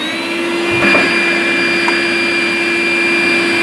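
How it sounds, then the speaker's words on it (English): A wet/dry shop vacuum running on its blow port pushes air at the fan of a handheld digital anemometer, giving a loud, steady, close motor whine and rushing roar that holds constant throughout, with no talking. "I put my wet dry vac on the blow port, and I thought we'll blow at the fan"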